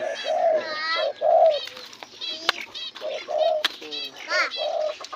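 Caged pigeons coo close up in a soft, repeated rolling rhythm, several birds overlapping with brief chirps and faint rustling between calls.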